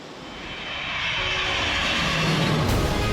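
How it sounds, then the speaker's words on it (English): A Kawasaki C-2 military transport aircraft roars steadily and loudly, its broad engine rumble building slightly over a few seconds as though passing close. "A bold, dependable transport aircraft is bringing Ifu from the land where Mount"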